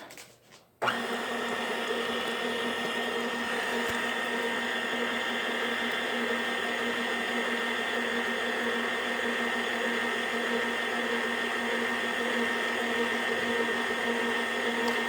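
A motor whirs on abruptly after a short pause and runs at a steady, loud drone: an old KitchenAid stand mixer kneading dough for crusty Italian bread.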